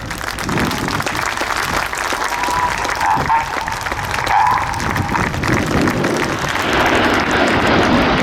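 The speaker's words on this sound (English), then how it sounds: "a huge patriotic round of applause," Outdoor crowd at an air show applauding the Red Arrows display, a broad steady roar of clapping with a commentator's voice and faint aircraft noise mixed in.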